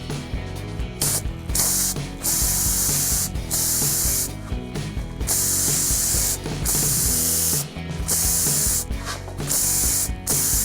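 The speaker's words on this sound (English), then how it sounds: "spray paint it and do my best to kind of get it on stuff" Close-up aerosol spray paint hisses in repeated bursts onto a compost tumbler, mostly long steady sprays broken by brief pauses, with faint rattling and clicking underneath.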